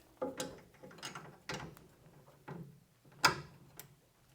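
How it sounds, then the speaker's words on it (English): A new torque wrench tightens the 5/8 bolts on the steering column of a 1964 Chrysler New Yorker: a quiet, near series of ratcheting clicks and bursts, with a sharper click standing out near the end. "New torque wrench sounds like it's working."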